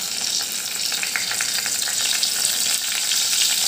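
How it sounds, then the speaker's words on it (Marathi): Cumin seeds and bay leaves sizzle in hot oil for a green moong dal curry, a close, steady frying crackle that runs unbroken and fairly loud, with no talking. "त्यात आपण सर्वप्रथम टाकूया जिरं. मस्त छान तडतडलं आहे."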